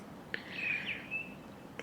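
A blackbird sings outdoors in a single faint, thin electronic-sounding warbling phrase that mimics a car alarm, over quiet background noise.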